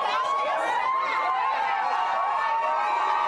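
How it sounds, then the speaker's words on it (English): A crowd cheers and shouts as Donald Trump walks into a Cuban restaurant, a dense, sustained roar of many voices close by. "this is what the crowd did when he walked into the restaurant and hung out with his doppelganger there"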